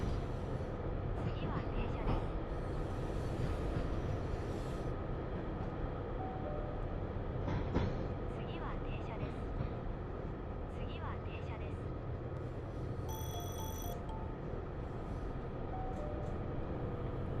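A running train gives a steady, continuous rumble throughout, with a brief high electronic chime partway through. People talk over the noise.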